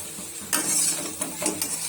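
Chhana pakora and potatoes being sautéed with ghee and spices in a pan, a steady sizzle broken by a few sharp spatula scrapes and stirs, close and moderately loud with no talking.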